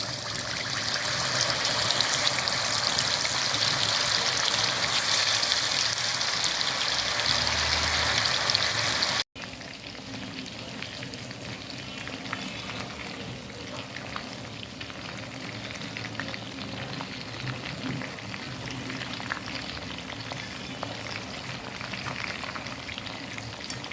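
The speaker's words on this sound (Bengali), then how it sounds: "কাবাব ভাজার জন্য একটা কড়াইতে আমি তেল গরম করে নিয়েছি। এখন দিয়ে দিচ্ছি কাবাব।" Chicken kebabs fry in hot oil in a wok, giving a dense, loud crackling sizzle that cuts off abruptly and then continues as a quieter, steady bubbling hiss.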